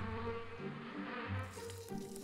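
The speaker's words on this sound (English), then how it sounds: "Huang Yuannong's bees returned from the adventure of racing with the sea" Honeybees return to their hives beside coastal mangroves, giving a steady, dense, low buzz of many wings. The drone stays even and fairly faint throughout the brief stretch, with no voices over it.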